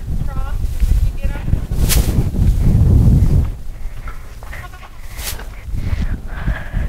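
Goats bleating on a farm, several calls close by and spread across the clip among livestock shuffling and light wind noise; a person speaks in between.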